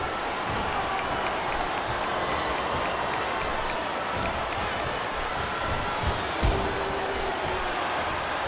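A capacity crowd fills a WWE wrestling arena with steady applause and cheering, a dense continuous roar that holds level throughout, with a brief louder burst near the end.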